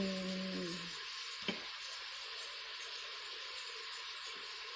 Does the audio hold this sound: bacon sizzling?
yes